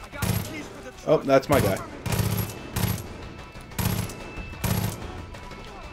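Bursts of enemy gunfire in Far Cry 5 arrive in short repeated volleys, loud and close, with a man's brief spoken line in between.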